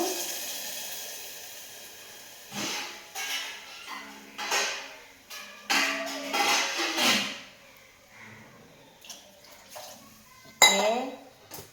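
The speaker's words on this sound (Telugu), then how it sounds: "కొంచెమంత అయితే వాటర్ వేసేసాను" Water splashes into a metal pot of carrot and taro curry among clinks and clatters of cookware, with a voice speaking intermittently nearby.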